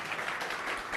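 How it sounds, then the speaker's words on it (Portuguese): Audience applause at a business panel event on productive inclusion, a steady wash of clapping filling the whole short moment at moderate level with no pauses. "Uma salva de palmas, gente"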